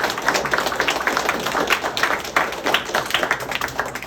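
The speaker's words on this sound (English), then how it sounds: "Everybody give a big round of applause," A group claps together in a round of applause at the close of a community session, a dense, steady patter of many hands close by with no speech.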